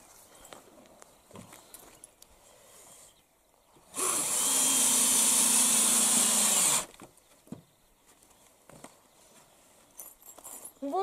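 A power drill drives self-tapping screws while a greenhouse is being built outdoors. One loud, steady whir lasts about three seconds, set among quieter clicks and handling noises.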